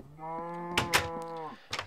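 A cow in a farming video game lets out one long, clear, steady moo with a rich harmonic tone, broken by a few sharp clicks and taps.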